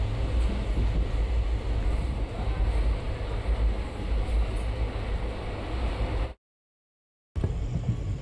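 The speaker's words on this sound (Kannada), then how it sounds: "ಏಳು ನಿಮಿಷ ಲೇಟಾಗಿ ನಮ್ಮ ಟ್ರೈನ್ ಹೋಗ್ತಿದೆ, ರನ್ನಿಂಗ್ ಆಗ್ತಿದೆ" A passenger train on the Hospet–Davanagere line rolls steadily with a loud, continuous rumble and clatter, cut by a brief silent gap before resuming.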